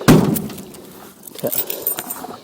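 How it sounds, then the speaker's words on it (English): Old keys for a 1964 Mercury Comet jangle in a brief metallic burst at the start, followed by quieter clinks and handling noises close by. "Them old Mercury keys, and I got all kinds of other keys."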